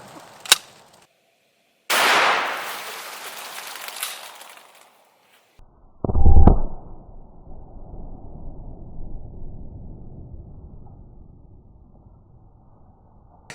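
A 12 gauge shotgun fires a 1 ounce slug into meat and bone. A sharp crack comes first, then a loud blast with a trailing roar, then another heavy boom followed by a lingering rumble and clatter.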